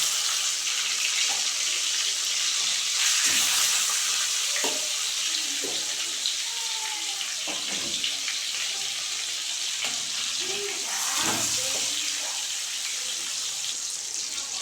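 Pieces of glass carp fish frying in hot oil in a pan, a steady dense sizzle and crackle throughout with occasional stirring clinks and splashes.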